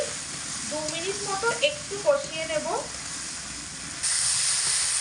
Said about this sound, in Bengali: ডাল দিয়ে মশলার সাথে দু মিনিট মতো ভালো করে কষিয়ে নিয়েছি মিডিয়াম আঁচে রেখে